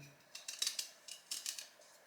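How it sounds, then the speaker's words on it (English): A kitchen knife shaves the peel from a piece of fresh ginger, giving a run of short, crisp scraping cuts in two quick clusters, faint and close, with no talk. "Cut a bit away the peel"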